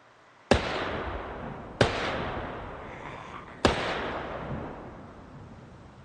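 Three sharp gunshots from a JS14 rifle in Project Zomboid, spaced about a second and a half apart, each a loud close crack followed by a long decaying echo, with no talk.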